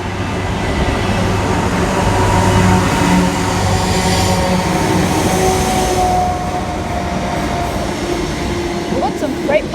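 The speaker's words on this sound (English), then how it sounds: "We got some freight past Auburn." At Auburn station in Sydney, a freight train rolls past at night with a loud, continuous rumble and rattle of wagons that fades slightly toward the end. Voices can be heard faintly under the noise.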